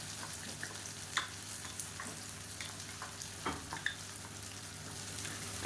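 Raw banana pieces roasting in oil with ground spice powder, a quiet steady sizzle with scattered light scrapes and taps from stirring, heard close but faint, with no voices.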